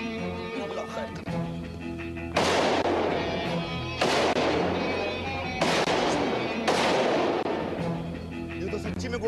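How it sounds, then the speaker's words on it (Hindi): Gunfire erupts in several heavy, booming bursts, each a loud crack that rolls into a long rumbling tail, spaced a second or two apart over a noisy background. "ये तो सच्ची में गोलियां मार रहे।"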